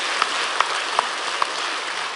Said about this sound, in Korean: 하나님께 박수를 한번 드리겠습니다